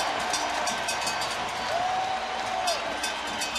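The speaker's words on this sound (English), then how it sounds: "Sellout crowd on its feet." A sellout ballpark crowd on its feet at an Oakland A's home game against the Baltimore Orioles, with two outs in the inning. The roar is steady and broad throughout, and a brief whistle-like tone rises through it midway.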